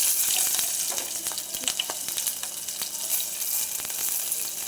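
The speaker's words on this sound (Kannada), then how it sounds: "ಎಣ್ಣೆ ಕಾಯಕ್ಕಿಟ್ಟಿದ್ದೀನಿ ಪಾತ್ರೆಗೆ. ಅದನ್ನು ಕಟ್ ಮಾಡ್ಕೊಂಡಿರೋ ಈರುಳ್ಳಿನ ಹಾಕ್ತಾಯಿದ್ದೀನಿ." Chopped onions dropped into hot oil in a pan sizzle and crackle steadily, with broadband frying hiss and scattered sharp pops throughout, close and fairly loud, no talk.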